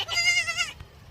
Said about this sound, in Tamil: ஆடு உள்ள வந்து ஒரு வாட்டி கத்துறோன்னு பதிலுக்கு அதோட குட்டியும் கத்துது